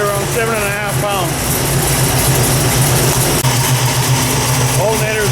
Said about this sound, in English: I just started it up and the motor's cold.